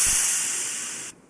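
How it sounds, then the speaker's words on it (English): Air suspension dump valve on a 2024 Harley-Davidson Touring motorcycle releasing pressure from the shocks: a loud, steady hiss of escaping air that fades gradually over about a second before cutting off abruptly. "when I hit this, it should dump all the air out of the shocks"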